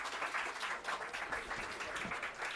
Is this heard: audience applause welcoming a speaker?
yes